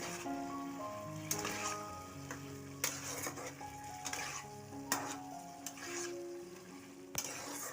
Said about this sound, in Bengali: এবার এর মধ্যে মাশরুমগুলো দিয়ে দেবো, দিয়ে কষিয়ে নেবো মাশরুমগুলোকে।